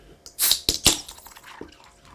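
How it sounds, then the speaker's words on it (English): A can of Guinness Draught with a nitrogen widget cracks open with a sharp burst of hiss, then a few brief splashy pulses follow as the stout is poured, close and fairly loud with no talking. "So we're gonna crack this open and we're gonna pour it here."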